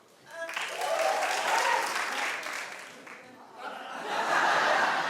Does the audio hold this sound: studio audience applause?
yes